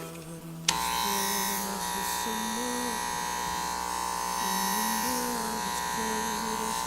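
An Oster Fast Feed hair clipper switches on with a click and then runs as a steady, fairly loud electric buzz that needs oil, with a faint voice underneath at times.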